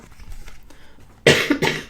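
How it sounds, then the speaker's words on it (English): Two sharp, close coughs in quick succession after a moment of quiet background. "Very sorry for any coughing."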